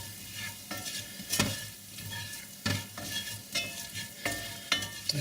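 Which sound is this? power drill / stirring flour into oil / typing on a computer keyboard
stirring flour into oil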